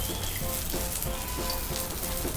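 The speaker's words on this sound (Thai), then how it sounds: "เปิดไฟให้ร้อนนะคะ แล้วก็เอาข้าวเหนียวลงกิ้งเลยค่ะ" Sticky rice fries in hot oil on a lit stove with a steady, dense sizzle and crackle that continues unbroken and fairly loud throughout.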